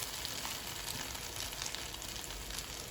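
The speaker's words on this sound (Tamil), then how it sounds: "நான் கொஞ்சம் பொரிஞ்ச பிறகு வந்து திருப்பி வருவேன் மற்ற சைடு." Jaffna-style egg fry in a pan, an even, bright sizzle of frying oil that holds steady and close for a few seconds with no one speaking.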